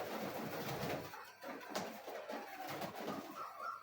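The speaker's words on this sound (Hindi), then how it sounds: "माशाल्लाह बड़ा अच्छा कबूतर है" Golden breed pigeons coo softly in a breeding setup, a few faint, low calls against light background noise.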